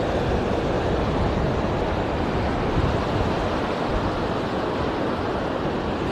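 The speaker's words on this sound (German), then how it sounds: "Es sind schon ein paar Wellen da" Sea surf at Side beach in Gündoğdu on a windy April day, a continuous broad wash of waves and wind noise at steady level with no distinct voices.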